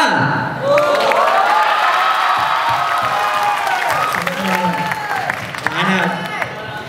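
An audience at a street dance competition claps and cheers loudly, a dense wave of applause with whoops from the crowd that holds steady throughout, with voices mixed in.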